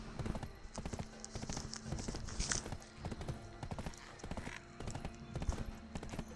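Horse hooves gallop in the game Black Desert, a steady, rhythmic run of close thudding beats with a faint whinny partway through.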